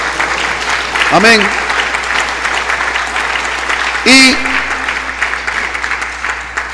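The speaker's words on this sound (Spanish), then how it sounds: "Un aplauso" Congregation at a church prophetic conference claps steadily for the whole stretch in a dense, even wash, with a voice calling out briefly over the applause twice.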